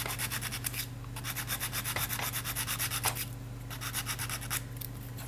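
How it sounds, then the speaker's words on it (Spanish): Acrylic nail being filed at the tip and sides, a steady run of rapid rasping strokes close up, rhythmic back-and-forth scraping over a constant low electrical hum, with no talking. "Voy a limar los laterales."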